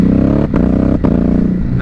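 A 2021 Ducati 950 Hypermotard's engine runs loud and close at a steady idle-like throb, with two brief dips in its rumble, and no one talks over it.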